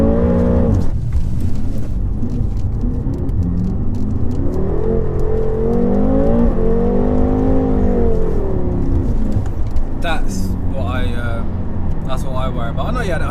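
A BMW M5 Competition Pack accelerates hard, engine revving upward through gears with rising and falling pitch, loud from inside the cabin, while people talk over it.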